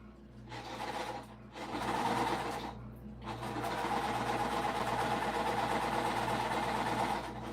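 A sewing machine stitches a large-size pattern, its steady motor whir running almost continuously with two brief pauses early on, then humming evenly to the end, with no talking.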